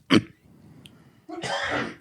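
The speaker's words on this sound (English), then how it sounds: "I experience this coughing thing when I start talking" One sharp, close cough, a short pause with faint breathing, then a longer, rougher cough-like throat clearing.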